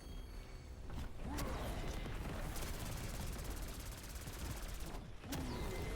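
Rapid SMG fire in Black Ops 6 Zombies on the Citadelle des Morts map rattles in loud dense bursts, nearly continuous with a short break near the end, mixed with game impacts and mechanical clatter.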